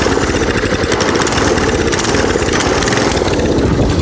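A straight-piped go-kart engine runs loud and close with no muffler, a raw, rapid, rattling putter that holds steady and harsh throughout, with no voices over it.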